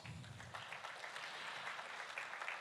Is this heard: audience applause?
yes